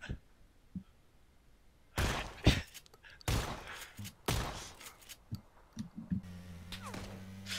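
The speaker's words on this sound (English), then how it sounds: "We're getting shot at." Gunfire in the PUBG battle royale game: several sharp, loud broadband bursts of shots fired at the players, coming in clusters with short gaps and ending in a low steady engine-like hum.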